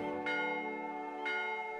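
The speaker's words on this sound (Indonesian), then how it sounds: "lonceng lonceng apa nih" Bells ringing in the puzzle adventure game Old Man's Journey, two sustained tolls about a second apart with long shimmering overtones, clear and alone.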